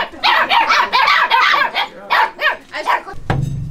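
Dogs at an animal shelter barking in a rapid, loud volley of close-up barks and yips with almost no pause, followed by a low rumbling noise at the end.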